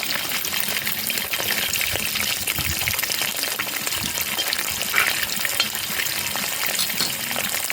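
Fresh bacon fries in a frying pan with a dense, continuous loud sizzle and spatter close up, steady crackling throughout with faint stirring and no voices.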